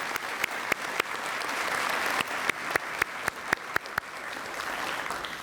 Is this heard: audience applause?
yes